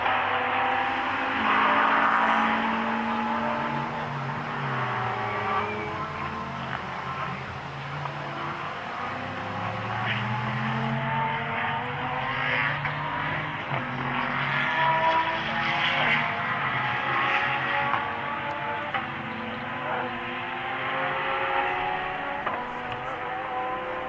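Endurance race cars, including a Mechanic Motorsports Lamborghini, pull out of the pit lane one right behind another at the Slovakia Ring, their engines rising and falling steadily over roughly twenty seconds, with no voices.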